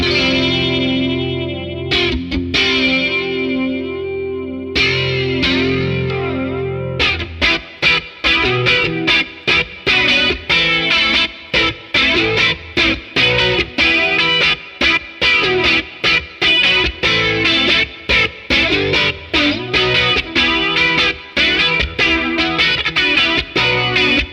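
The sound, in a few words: guitar flanger with low regeneration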